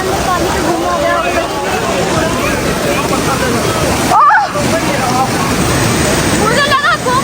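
Water pours loudly and steadily under a waterfall while someone bathes beneath it on a mountain hike, the rushing wash constant with a brief surge of splashing near the end.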